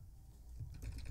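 Quiet clicking of keys on a computer keyboard, a short run of soft taps with a couple of firmer strokes near the end, with no talk.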